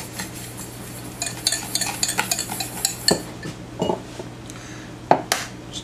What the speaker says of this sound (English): to this I'm gonna add and beat in 3 eggs